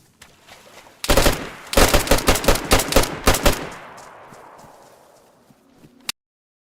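A rapid burst of gunfire from the DayZ video game, about a dozen loud, closely spaced shots over two seconds followed by a long fading echo and a sharp final click.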